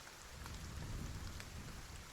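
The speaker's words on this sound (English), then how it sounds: "onward you trudge in the rain" Steady rain falls as ambience for a tabletop role-playing game session, a dense even hiss with low rumbling thunder underneath, continuous and without voices.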